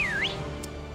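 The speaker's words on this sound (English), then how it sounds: "it asks you to play a tone, all you're gonna do is whistle" A rising-then-falling whistle tone played as an in-game cue in the Pokémon Crown Tundra area, one short clear glide at the start over a steady low background hum, followed by a brief faint chime.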